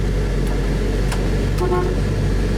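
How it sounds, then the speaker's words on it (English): A 1970 Oldsmobile 442 idling at about 600 RPM gives one short, mid-pitched horn beep over a steady low engine drone. "Horn works."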